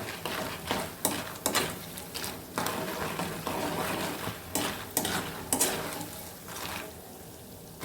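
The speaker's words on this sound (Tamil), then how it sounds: "எல்லாத்தையும் ஒன்றா போட்டு நம்ம பொரிச்சிடலாம்" Dried manathakkali and sundakkai berries fry together in a pan, giving a steady close sizzle broken by several sharp scraping stirs and clinks of a spoon against the pan, with no voices.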